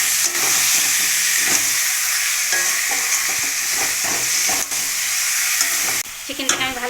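Chicken with yogurt, spices and softened tomato fries in a pan, a loud steady sizzle broken by repeated scraping stirs of a spoon throughout, with no talking.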